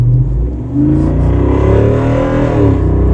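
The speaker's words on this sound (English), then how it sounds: "But this exhaust sounds awesome." A loud, close V8 engine in a 2024 Jeep Wrangler Rubicon 392 Final Edition revs up and holds a deep, throaty exhaust roar, rising in pitch before settling.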